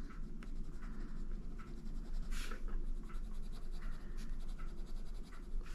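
A Castle Arts pastel tint colored pencil scratches across paper in close, quiet, continuous strokes with a few brief sharper taps.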